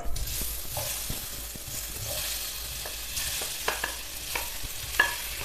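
Ripe banana pieces fry in hot ghee in a pan over medium flame, giving a steady close sizzle broken by repeated scraping stir strokes from a spoon, with no talking.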